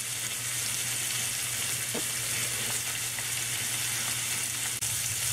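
Steaks sizzle steadily in a hot pan, a loud, continuous frying hiss with a low hum underneath and a faint scrape or two, no voices over it.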